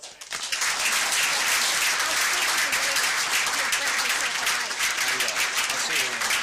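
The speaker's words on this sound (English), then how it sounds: "How about a round of applause?" A large audience applauds loudly and continuously, a thick wash of clapping that swells in quickly and holds steady.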